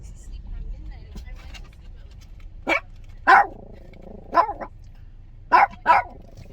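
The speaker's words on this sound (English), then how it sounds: "Nobody wants to hear you bark." A dog barks at a park, five sharp barks in uneven bursts, some doubled, over a quiet outdoor background with low traffic-like hum.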